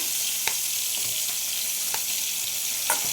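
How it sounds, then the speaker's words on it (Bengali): Thick green chillies fry in a pan with white mustard seeds, a constant close sizzle broken by a few quick crackles and stirring clicks. "এবার দিয়ে দেবো এই মোটা মোটা লঙ্কা"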